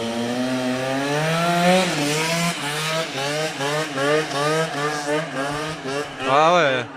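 A moped engine with a 70cc Most kit revs hard and close, its raspy two-stroke whine swinging up and down in pitch through several sustained throttle sweeps.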